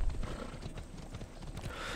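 A horse gallops across open ground in Assassin's Creed Odyssey, its hooves drumming in a quick, steady clip-clop over a constant low background.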